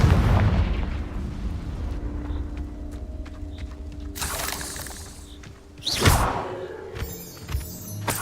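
Confringo spell blasts in Hogwarts Legacy: a rumbling explosive boom, then two sharp, bright bursts with crackling debris over low combat noise, and no voices.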